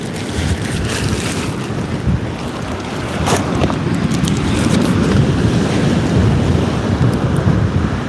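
Blustery wind roars across the mic at sea off the south coast of England, with waves washing and slapping around a small kayak in a loud, constant rumble and occasional sharper gusts.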